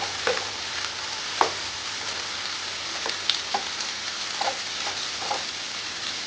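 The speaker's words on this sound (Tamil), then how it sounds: "பாருங்கள், நல்லா ஃப்ரை ஆகிட்டுருக்கு." Potatoes frying with salt, asafoetida and chili powder for a Tamil potato poriyal, a steady sizzle broken by scattered spatula clicks and scrapes against the pan.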